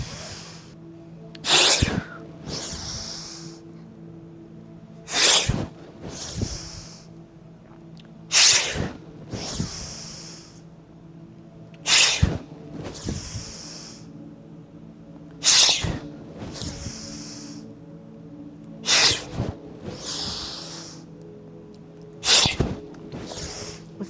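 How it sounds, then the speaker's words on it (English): Forceful releasing exhales in a stress-relief breathing exercise: about eight sharp, loud breath bursts spaced a few seconds apart, each followed by a softer airy tail, with quiet inhales between. "and exhale"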